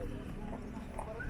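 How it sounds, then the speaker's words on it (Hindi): Hooves of a large white horse clip-clop steadily during a horse ride at Mahabaleshwar, faint and rhythmic beneath nearby talking. "इतना बड़ा घोड़ा है ये"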